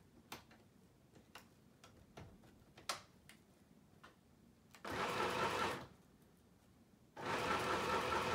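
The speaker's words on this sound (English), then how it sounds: "I'm gonna go sew these right now on the sewing machine, which is off camera" A sewing machine stitches paper tags, two loud close bursts of rapid, even mechanical stitching after a stretch of scattered ticks and clicks.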